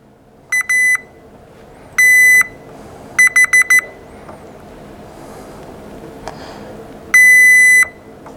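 Continuity tester on a connector gives five sharp electronic beeps, short and long, with a quick burst of four in the middle, loud and close against a low background hum.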